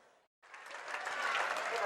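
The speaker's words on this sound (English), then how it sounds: "the round of applause is for Drury senior Molly Moulton" Spectators at a high school girls' basketball game applaud an injured player; after a brief gap, clapping rises to a steady crowd applause, with speech mixed in.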